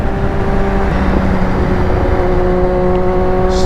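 Honda CBR sport motorcycle ridden on the street, a steady close engine drone with a sustained tonal hum and slight pitch shifts, laced with constant wind rush, alone without talk.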